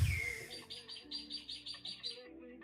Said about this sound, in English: Who's got all the birds in the background?